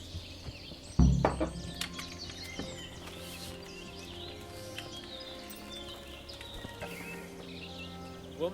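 Horse hooves clip-clop through the medieval countryside of Kingdom Come: Deliverance, with a sharp thud near the start followed by soft, steady hoofbeats under birdsong and ambient chirping.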